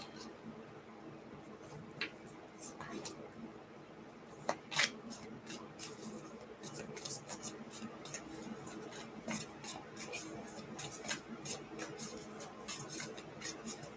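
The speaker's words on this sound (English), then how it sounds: "I'm just gonna pull the cards and then I'll talk to you" Tarot cards are shuffled and pulled, giving soft papery riffles, flicks and snaps that come in irregular bursts, close and fairly quiet, with no talking.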